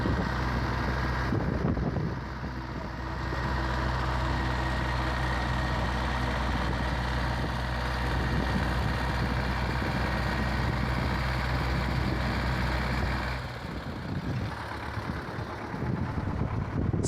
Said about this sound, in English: With everyone working together, the tension builds as both tractors apply steady force